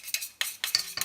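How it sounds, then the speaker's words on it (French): Green-coloured crêpe batter stirred in a bowl with a utensil, a few quick close scraping and clinking strokes in an irregular rhythm, no talk. "On touille bien."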